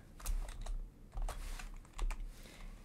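Computer keyboard typing, a steady run of quick, close key clicks in small clustered bursts with brief pauses, no voices.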